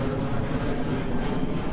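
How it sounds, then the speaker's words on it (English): An airplane flies overhead with a steady, loud engine roar and broad rumble filling the whole moment without pause, while a voice is faintly present underneath. "Damn airplane."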